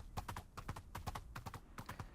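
Steady clip-clop of a fast bred horse's hooves in a hardcore survival video game, a quick even rhythm of soft thuds at close range with no talk.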